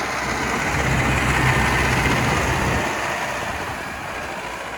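YuMZ tractor engine running out in a field, a steady loud broadband rumble that stays fairly constant and thins slightly toward the end.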